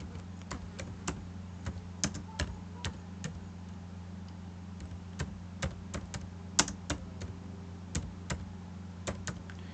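Typing on a computer keyboard while entering text into an Excel 2007 spreadsheet, irregular close key clicks in short bursts over a steady low hum, no voices.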